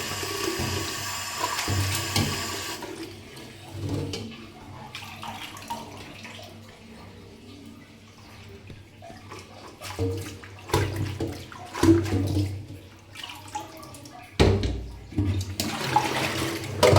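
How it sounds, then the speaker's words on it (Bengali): Water sloshes and splashes in close, uneven bursts as cut papaya, potato and taro stolons are rinsed over and over in changed water, with louder gushes near the start and again later. "আমি জল পাল্টে পাল্টে ভালো করে এটা কয়েকবার ধুয়ে নিলাম"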